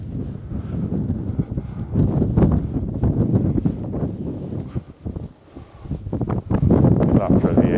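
Gusty wind in the Peak District buffets the microphone in rough, uneven bursts, with a brief lull midway before it picks up strongly again.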